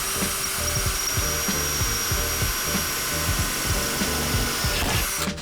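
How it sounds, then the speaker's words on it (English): A power drill with a 1/4 inch bit bores through the bottom metal layer of a van ceiling, a steady whirring grind with pulsing low vibration lasting throughout before stopping abruptly. "You can use a 1/4 inch drill bit to drill that hole"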